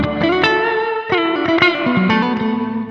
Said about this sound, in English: This is the reverbs, and here we have the high density reverb.